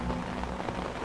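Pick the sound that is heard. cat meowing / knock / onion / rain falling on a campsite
rain falling on a campsite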